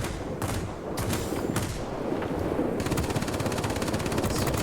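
Rapid aircraft machine-gun fire from the XP-58 fighter in the World of Warplanes video game, loud sustained bursts over a constant engine drone, with dense rattling fire in the second half.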